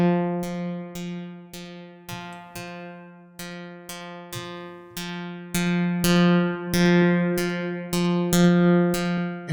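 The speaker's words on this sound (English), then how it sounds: "So we get a more buzzy sound to the right." A bright, buzzy synth pluck from UVI Falcon's Pluck oscillator repeats on one low note in an even rhythm, each hit sharp and quickly decaying, getting slightly fuller and louder over time.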